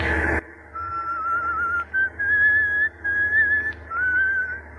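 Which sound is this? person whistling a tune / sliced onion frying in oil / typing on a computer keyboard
person whistling a tune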